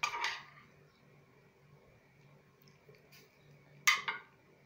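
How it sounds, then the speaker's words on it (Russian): A utensil stirs cabbage soup (kapustnyak) in a cooking pot, giving a couple of quiet metallic clinks and scrapes at the start and again near the end, with low, near-silent simmering in between. "Хорошо перемешиваем"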